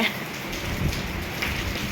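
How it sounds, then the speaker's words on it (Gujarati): Rain falls steadily outdoors during Navratri, a dense, even hiss of drops over a short stretch with no voices. "વરસાદ ચાલુ થઈ ગયો છે"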